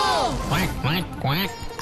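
A voice imitates a duck's quack: three bouncy, nasal honks in a row, loud and close.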